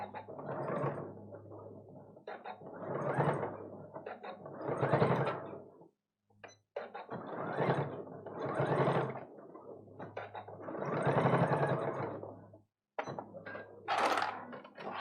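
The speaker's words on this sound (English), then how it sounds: "I'm going to sew these 2 edges down" A sewing machine stitching down two edges of a fabric bag, running in several loud bursts of rapid mechanical whirring separated by short pauses.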